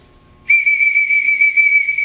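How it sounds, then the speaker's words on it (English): One loud, piercing whistle blast held steady for well over a second on an archery range, sounded as an emergency signal after a brief quiet moment. "It's a blast of five or more, consecutive blast,"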